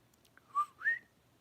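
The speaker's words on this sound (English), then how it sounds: "I just heard a whistle" Two short whistled notes, rising then falling, sound faintly at a distance outdoors on a quiet rural property with late-autumn trees, with no talk over them.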